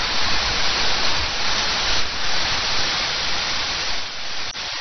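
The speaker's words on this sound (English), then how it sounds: "here we are right under China's longest waterfall" Liusha waterfall, China's longest, roars from directly underneath as a steady, loud, broad hiss of falling water and spray, continuous and close with no voices.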